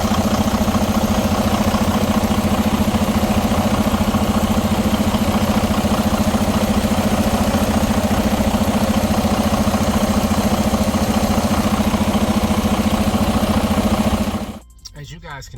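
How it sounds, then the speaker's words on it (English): A truck engine, broken down under load in Virginia with a coolant leak, runs at a steady loud idle with a constant low hum for about fourteen seconds, then cuts off abruptly, leaving faint background noise. "Now if I cut the truck on and start running the truck, you will see where the water is coming out"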